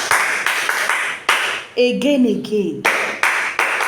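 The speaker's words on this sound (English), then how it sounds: "Clap for yourself." Students in an Epie language class clap for themselves in short, loud bursts of rapid hand claps, broken midway by a spoken voice before the clapping resumes.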